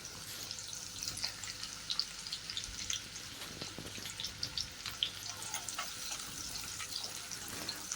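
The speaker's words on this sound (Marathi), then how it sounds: "लसूण चांगला लाल झालेला आहे आता यात कांदा घालून घेऊयात" Onion sizzles steadily in a pan of oil with browned garlic for a Konkani dried prawn curry, a dense crackling hiss with scattered pops and faint stirring, close and continuous with no voices.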